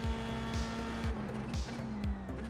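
Race car engine blipping through quick downshifts under hard braking into a corner, several rapid rev spikes in close succession over a steady engine drone, loud and close.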